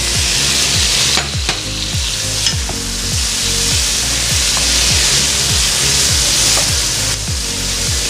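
Pork hits a hot pan of frying onion and tomato for Filipino menudo and sizzles loudly and steadily, while a utensil scrapes the pan in a regular rhythm throughout.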